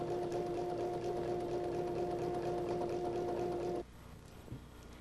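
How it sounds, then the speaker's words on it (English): A Baby Lock Esante ESE2 sewing machine with a walking foot stitches through a quilted fabric sandwich, a steady loud motor whir with rapid needle rhythm for about four seconds before stopping abruptly, leaving faint room noise and a small click. "Place the fabric sandwich under the walking foot, centering the needle on the first line, then sew using the line as a guide."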